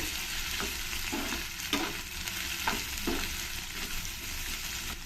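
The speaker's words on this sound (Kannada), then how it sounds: "ಕಟ್ ಮಾಡ್ಕೊಂಡಿರೋಂತಹ ಒಂದು ಕ್ಯಾಪ್ಸಿಕಮ್ ಸೇರಿಸ್ತಾ ಇದ್ದೀನಿ ಇದನ್ನೆಲ್ಲ ಸ್ವಲ್ಪ ಚೆನ್ನಾಗಿ ಫ್ರೈ ಮಾಡ್ಕೊಳ್ತೀನಿ ಎಣ್ಣೆಯಲ್ಲಿ" Chopped onion and capsicum frying in oil for cabbage manchurian, with a continuous close sizzle and periodic scraping strokes of a spatula stirring the pan, no voices.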